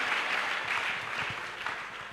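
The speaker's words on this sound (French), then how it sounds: "Give the Lord a clap." Church congregation clapping during a healing service, a steady dense wash of hands with rhythmic pulses, moderately loud and continuous, with no talk over it.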